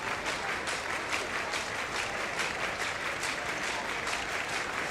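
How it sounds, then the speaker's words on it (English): A large stadium crowd at a women's 5000m athletics final, Tampere U20 championships, applauding and cheering steadily along the home straight, a dense continuous roar of clapping throughout. "The crowd are getting into it as well on this home straight in the main tribune"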